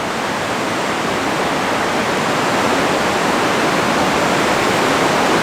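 Steady heavy rain drums on a big top circus tent, a dense, unbroken hiss that stays loud and even throughout with no voices.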